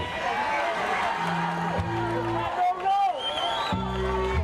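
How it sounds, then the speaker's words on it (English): A crowd at a high school baseball game between Crescenta Valley and Arcadia cheers and whoops, rising to a brief swell, while an announcer talks over the noise. "crowd getting riled for that one"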